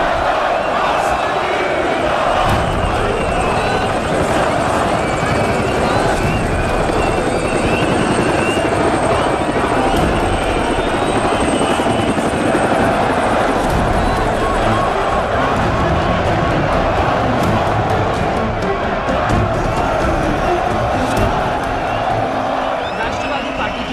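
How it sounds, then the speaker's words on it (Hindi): A helicopter lands at a political rally in Madhopur, its rotor roar loud, dense and continuous throughout, with a crowd cheering and shouting underneath. "हेलीकॉप्टर उतरा"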